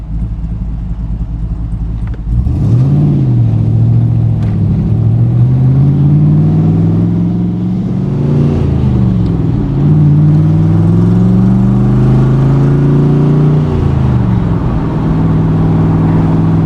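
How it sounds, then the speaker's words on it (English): A red 1965 Chevrolet Corvette Roadster resto-mod with an LS2 V8 drives off with the top down, its engine loud and close, revving and rising through several gear changes, with no voices heard. "I want to take you for a ride to show you just how nice this car is."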